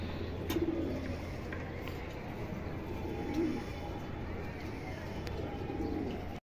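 Old-bloodline silver pigeons, a pair, coo in low repeated bursts over a steady background hum, with someone talking nearby through much of it.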